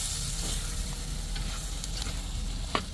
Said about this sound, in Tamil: எண்ணெயில் வதக்கிட்டா நல்லா மசாலா வதக்கி போய்